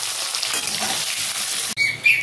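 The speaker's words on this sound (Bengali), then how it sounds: "মাছ ভাজার তেলে আমি বেগুনগুলো ভেজে নেব, একদম কড়া তেলে ভাজতে হবে" Brinjal pieces frying in very hot oil left over from frying fish, a steady close sizzle that cuts off abruptly near the end, followed by a brief clatter and a faint chirp.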